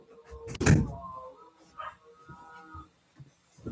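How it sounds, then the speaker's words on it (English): A door is pushed shut with a sharp thud early on, followed by quieter indoor shuffles and a brief dog whimper, with a bit of background activity afterward. "Let me shut this door."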